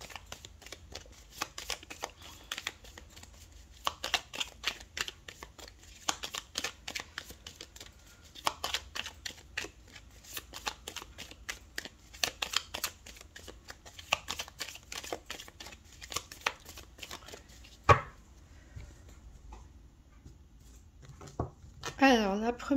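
Oracle cards being shuffled for a 13-card reading, a long run of soft rapid riffling and slapping with a few louder handling knocks near the end, while someone speaks quietly over it.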